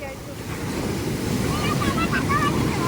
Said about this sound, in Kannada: ಅಲೆ ತುಂಬಾ ಜೋರಾಗಿ ಬರ್ತಾ ಇದೆ.